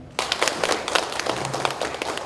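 An audience at an academic conference on the Donghak Peasant Revolution in Gwangju breaks into applause, a sudden burst of steady, dense clapping from a roomful of people that carries on evenly to the end.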